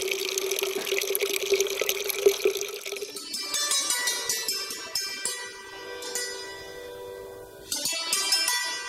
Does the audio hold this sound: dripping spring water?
yes